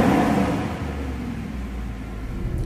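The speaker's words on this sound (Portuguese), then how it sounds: "Vamos ligar o carro, vai." Mercedes-Benz SLS AMG engine idling after a start-up, a loud deep rumble with a brief rising rev near the start before settling into a steady low drone.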